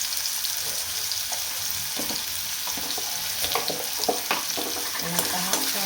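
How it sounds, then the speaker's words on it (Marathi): Onion fries and sizzles in a pan for a mung bean dry vegetable dish, a steady hiss broken by scraping clinks of stirring, close and moderately loud with no talk. "आपला कांदा आहे तो थोडासा परतला आहे"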